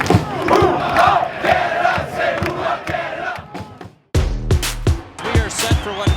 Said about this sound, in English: As the crowd comes to life here